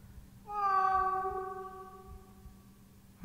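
A cat in the Wii horror game Calling gives one clear, drawn-out tonal meow, loud and close against a faint low hum, with no talk.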